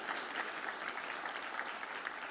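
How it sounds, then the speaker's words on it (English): An audience at the DistrictCon 2026 conference closing applauds in a dense, steady wash of clapping that holds at an even level throughout. "So one more round of applause for you."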